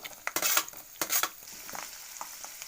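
Peanuts and garlic fry in oil in a pan for poha chivda, giving a close, steady sizzle broken by a few loud scraping stirs near the start.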